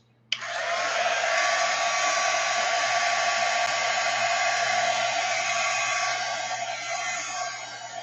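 A hair dryer blows steadily on a mixed media painting layer, switching on abruptly and holding a loud, even, close whoosh with a faint hum underneath for several seconds.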